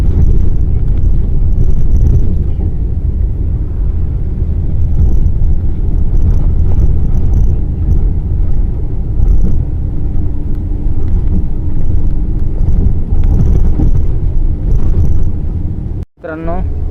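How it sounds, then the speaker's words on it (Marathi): A bus from Ahmednagar drives along with its engine running, producing a steady loud low rumble throughout, with voices talking over it and a brief dropout near the end. "आता गाडी सुरू आहे सध्या"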